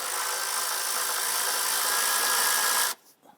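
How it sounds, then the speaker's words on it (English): A power ratchet or drill runs steadily at close range while loosening and removing a 10mm nut on a Jeep Grand Cherokee, then stops abruptly, followed by a few faint handling clicks. "On the back passenger side here, we have a 10mm nut. I want to go ahead and loosen and remove that."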